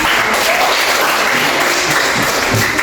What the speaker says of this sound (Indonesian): kasih tepuk tangan dulu buat kelompok